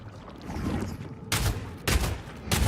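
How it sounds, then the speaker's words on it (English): A bolt-shot attack in Path of Exile 2 lands in three sharp, loud bursts spaced about half a second apart, rising over a quieter rumbling game backdrop. "Maybe just when I'm killing a single enemy like this, so just use the standard bolt shot"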